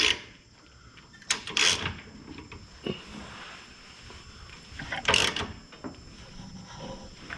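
A small castle nut being run onto the stud of a GM idler arm on an older Chevrolet or GMC, with a few sharp metallic ratchet and wrench clicks and rasps in short bursts, close by, separated by quiet pauses.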